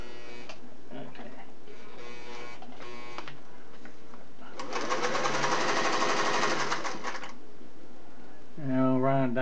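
A Singer Model 401A sewing machine runs in short bursts and then one longer steady whirring stretch of rapid stitching, close and clear, with a person talking between the runs.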